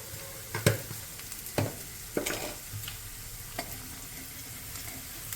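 Spices with coriander powder and turmeric roast in a pan, giving a soft, steady sizzle broken by several sharp scrapes of a spoon stirring, quiet and close, with no talk.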